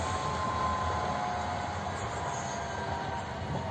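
A WKD commuter train rolls through a sharp, long curve at Warsaw Reduta Ordona station, its steady rumble and wheel noise continuous throughout, with a faint thin squeal above it and no voices.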